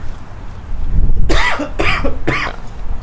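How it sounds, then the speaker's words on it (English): Three sharp, loud coughs in quick succession, close by, over a low background rumble. "Excuse me for coughing there."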